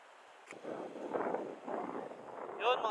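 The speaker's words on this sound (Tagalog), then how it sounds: "Sobrang lakas na ng hangin mga master." Strong wind gusting across the water during a lure-fishing trip for bluefin trevally at sea, a rough, steady roar that swells and eases over a few seconds, with a brief knock near the start.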